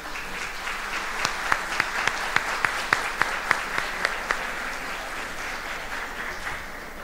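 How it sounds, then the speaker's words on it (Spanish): Applause welcoming presidential candidates at a regional development debate forum, a soft crowd patter with a run of sharp, evenly spaced claps in the middle that then thins out, moderately distant. "Y los recibimos con un aplauso,"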